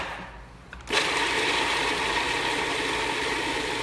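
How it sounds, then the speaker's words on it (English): Food processor switches on to puree potato with onions into a smooth mix, a sudden loud motor whir that holds steady after a brief quiet start. "We're gonna combine some of our potato with some of our onions, and we're going to process that to make it smooth."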